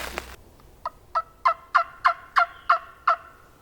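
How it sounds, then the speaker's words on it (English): Wild turkey gobbling in the Alabama woods during spring hunting season, a series of about nine evenly spaced, rapid clucking gobble notes, fairly distant and clear with no talk. "My bird just gobbled."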